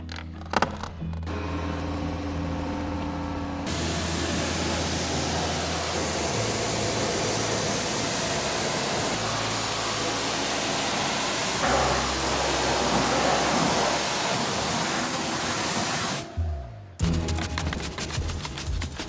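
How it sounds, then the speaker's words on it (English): Pressure washer spraying a rinse over a Holden LS3 SS Ute during a touchless chemical pre-treatment, a steady loud broadband hiss that runs almost unbroken and shifts in tone as the jet moves, with no talking. "I started with a chemical pre-treatment and pressure rinse to remove as much dirt as possible"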